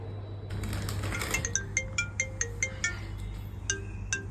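A phone ringtone chimes in a quick series of bright repeated tones, moderately loud and close, over a low room hum with no speech.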